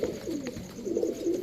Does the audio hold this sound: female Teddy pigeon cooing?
yes